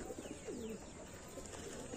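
A plain pigeon coos softly nearby, a short low throaty call in the middle of a quiet outdoor scene with faint background noise and no speech.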